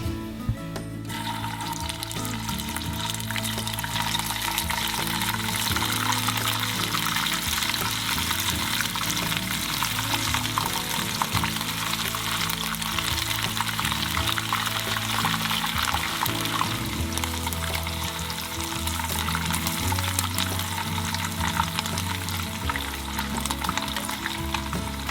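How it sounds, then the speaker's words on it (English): Pieces of wild hog meat frying in rendered pork fat: a loud, dense, unbroken crackling sizzle that holds steady throughout, close and with no talking. "now we're going to throw the meat in"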